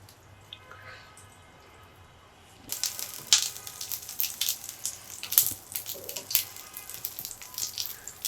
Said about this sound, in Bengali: প্যানটা গরম হয়ে এসেছে। এখন আমি এখানে বাটার দিয়ে দিলাম।